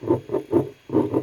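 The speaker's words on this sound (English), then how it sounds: "it's sliding across the desk here as I'm pulling it" A gift box scrapes across a desk in five short, rhythmic sliding bursts with brief pauses between them, heard up close and fairly quiet.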